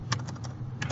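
Short, quick keystrokes on a computer keyboard, a handful of light clicks in an uneven run, close by over a low steady hum.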